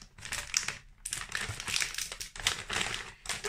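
A plastic Valentine's mystery bag crinkles and crackles loudly as it is handled and pulled open, in close bursts with brief pauses and no talking.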